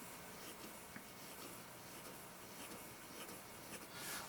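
Fountain pen with a 1.1 stub nib writing on paper, giving a faint, soft scratch of strokes over low background hiss with no talking.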